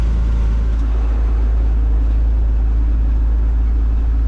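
A tractor turning hay in an open field runs steadily at about 2000 RPM during a headland round, its loud low drone constant and close with no speech.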